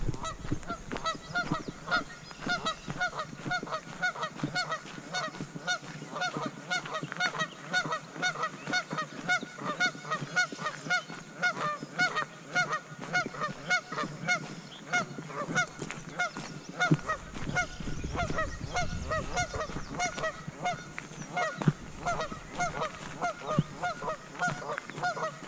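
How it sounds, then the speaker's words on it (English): A flock of geese honks continuously for a long stretch, overlapping calls close by and loud, with a low rumble of wind underneath at times. "here's a couple more geese."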